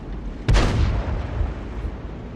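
A single heavy artillery shot from an S-51 self-propelled gun in a tank video game, a sharp loud boom with a rumbling tail that fades over the next two seconds.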